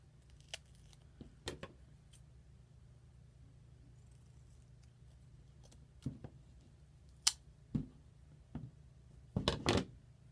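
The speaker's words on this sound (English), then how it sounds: "cut the end of my straw off because it's a little broken" Scissors snipping the end off a plastic straw in a quiet room: a few sharp, close clicks and snips scattered across the moments, alone over a low background hum.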